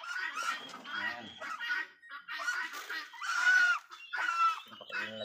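Red Bourbon turkeys in a turkey pen give loud, repeated honking calls in close bursts, several birds overlapping with short pauses between calls.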